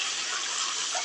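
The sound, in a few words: water poured into cooking pan with mustard paste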